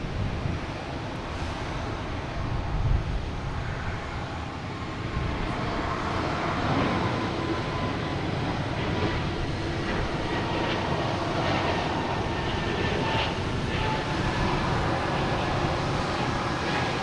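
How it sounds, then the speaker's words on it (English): A Delta Airbus A220 airliner takes off at Boston Logan Airport, producing a steady, broad jet roar from a distance, mixed with gusty wind buffeting the microphone for the whole stretch. "Next takeoff is Delta, A220, heading to Raleigh,"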